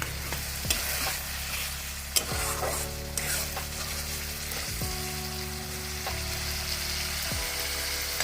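Spices and yogurt fry and sizzle in a pan for rohu fish curry, with a continuous crackling hiss and periodic scraping stirs of a spatula against the pan, close and steady, no voices.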